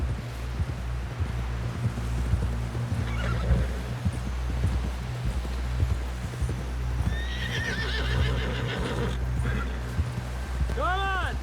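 Horse hooves clip-clopping steadily while a horse neighs and whinnies several times in Red Dead Redemption 2, with wind noise in the background and voices talking over the ride.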